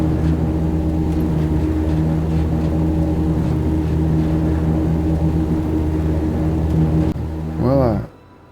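A Nomad vehicle driving in Star Citizen, a steady loud engine drone with strong low harmonics that holds for about seven seconds, then shifts into a rising whine before cutting off.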